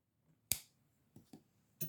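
Scissors snip crochet yarn for a crocheted shell hanger cover, one sharp close click followed by a few softer, quieter snips in a quiet room.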